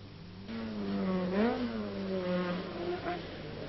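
A rally car on the 1983 Circuit of Ireland rally roars past at speed, the engine note climbing and dropping as it nears and goes by, with a clear rise and fall in loudness.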